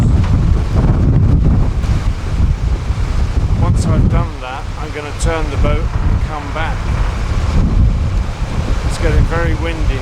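Strong gusts buffet a narrowboat on a canal near the Great Ouse Aqueduct, heavy wind roar across the mic throughout, with someone talking over it and birdsong chirping faintly in the middle.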